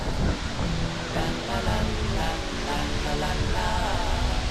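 Steady broadband rush of a waterfall pouring over rocks on a windy day, loud and continuous, with faint voices nearby.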